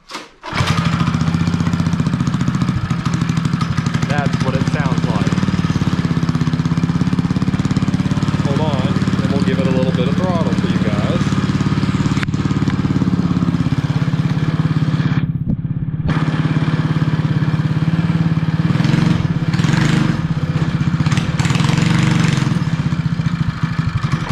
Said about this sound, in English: So here's the muffler. You might be wondering what it sounds like.